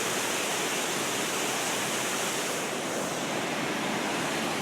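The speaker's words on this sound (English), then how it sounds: "this is a waterfall area where the Concord River drops down" A waterfall where the Concord River drops beneath a bridge gives a loud, broad, steady rushing roar, constant and unbroken throughout with no voices.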